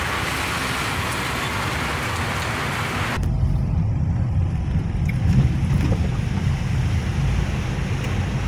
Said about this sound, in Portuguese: Vai passar uma carreta agora.